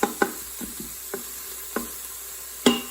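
Onions sautéing in an Instant Pot, a faint steady sizzle with several sharp utensil knocks and scrapes against the pot as they are stirred, the loudest near the end.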